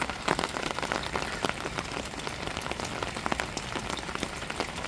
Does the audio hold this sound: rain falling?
yes